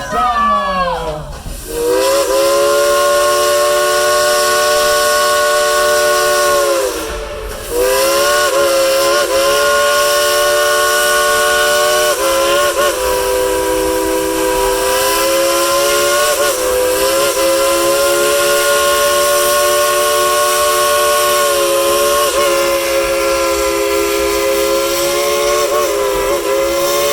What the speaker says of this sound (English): Would you like to hear Engineer Steven blow a little tune on his Crosby 3-chime whistle?